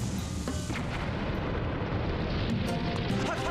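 A bomb explodes in Zelda Skyward Sword HD with a loud, rumbling blast. The roar stays close and fills the whole moment without letting up.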